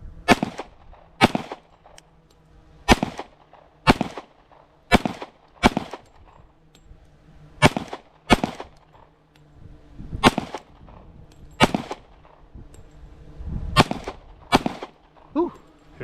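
A Glock 21 Gen 5 pistol fires .45 ACP Ammo Inc rounds outdoors in the cold, with about fourteen sharp, loud reports in uneven bursts and short pauses, each followed by a brief echo.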